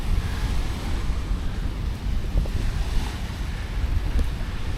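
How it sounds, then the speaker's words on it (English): Surf and gusting wind on a little-known northern beach in Da Nang, near a river mouth and mountains, a steady broadband roar of breaking waves with wind buffeting the microphone throughout, no voices. "And this is the relatively unknown northern beach."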